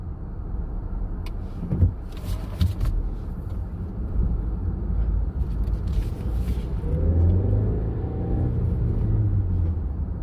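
A car driving at low speed through a 20 mph zone, with a steady low engine and road rumble throughout and a few faint clicks and knocks inside the cabin, with no talk.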